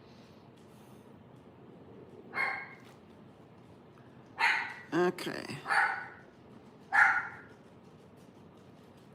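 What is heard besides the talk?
dogs barking indoors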